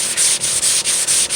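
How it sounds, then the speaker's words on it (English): A sanding block rubs steadily over a dent on a 1998 Toyota Sienna's body, giving a close, loud, hissing scrape in even back-and-forth strokes, about six passes with brief pauses between them. "just let the sanding block do the work by itself"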